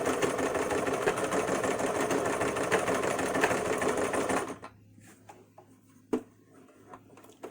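Sewing machine stitching edge seams on a fabric face mask, running loud and steady for about four seconds before stopping, followed by quieter handling clicks and a brief knock.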